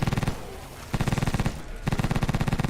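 Minigun in the game Blood Waves fires in two long rapid bursts, a fast even rattle of shots, pausing briefly in the middle and then resuming loud and close.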